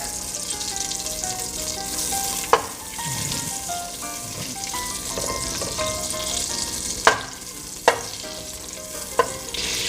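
Butter melting and sizzling in a pan, a steady close hiss of frying broken by a few sharp clicks or taps, with no talk over it.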